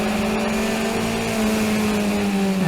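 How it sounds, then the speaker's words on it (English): Race cars on a Montreal street circuit roar past close by in a continuous, loud engine drone whose pitch dips slightly as the last one goes by. "A 3rd car sneaks by"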